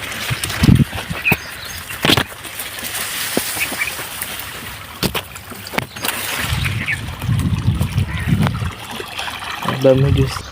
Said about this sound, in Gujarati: અને હાલ આપણે વાળવાનું છે બાજરીમાં પાણી